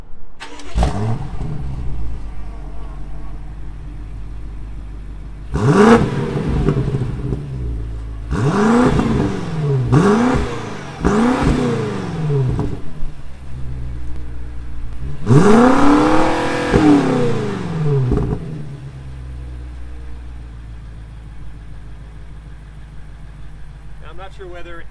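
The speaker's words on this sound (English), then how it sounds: "I'll rev it up." A 2020 BMW X6 M Competition idles, then its engine is revved in several sharp bursts that rise and fall in pitch, heard up close with a longer rev near the middle and steady idle between, and a person talks over it.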